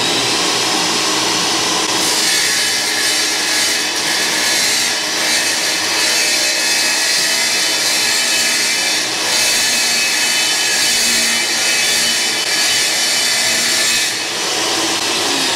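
A DeWalt DS36000S wet tile saw grinds steadily through tile, a loud continuous whining rasp with slight rises and dips as the blade bites, close and alone without talk.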